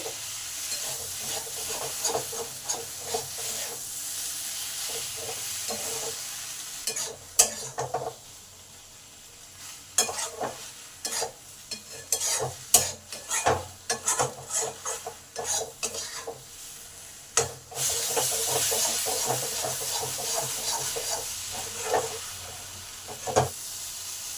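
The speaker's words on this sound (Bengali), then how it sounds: "এই পেঁয়াজ ক্যাপসিকামকে পাঁচ মিনিট হাই হিটে ভেজে নিতে হবে" Onion and capsicum stir-frying on high heat for Chinese-style egg chilli, with a steady sizzle broken by repeated spatula scrapes and clatters against the pan, loud and close, with no talking.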